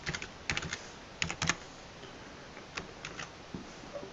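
Keys tapped on a computer keyboard while entering a password, quiet irregular clusters of clicks with short pauses between bursts, close and soft, no voices.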